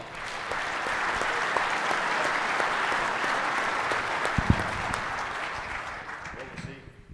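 Audience applause at a farming conference opening, steady dense clapping from a sizable crowd sustained for around six seconds before tapering off, with a couple of thumps near the mic.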